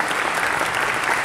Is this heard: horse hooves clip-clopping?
no